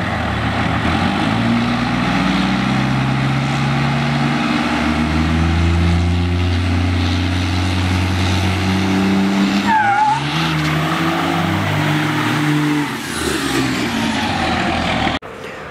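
Cummins diesel pickup trucks, one twin-turbo and one big single-turbo, launch hard with a loud, sustained engine drone whose pitch climbs and steps through the gears, the revving filling nearly the whole stretch before cutting off.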